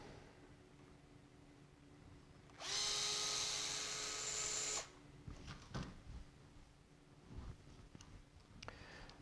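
A handheld power drill spins for about two seconds, removing the gearbox screws on a suspension conversion set, a steady loud whir that then stops, followed by small clicks and handling of parts.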